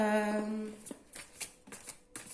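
Gaia oracle cards are shuffled and drawn in a few quick, soft riffling bursts of paper, close up, following a brief hum-like tone at the start.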